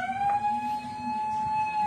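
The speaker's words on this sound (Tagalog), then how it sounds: "Kasi maingay yung wangwang." Siren wailing near a street parade, a steady high tone with rising harmonics over a busy rumbling background of crowd and street noise, moderately loud and continuous, with no clear speech.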